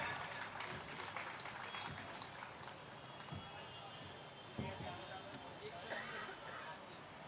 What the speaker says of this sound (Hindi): मैं चाहता हूं एक बार जोरदार तालियों से ये आप जताएं कि आप यहां की रौनक हैं।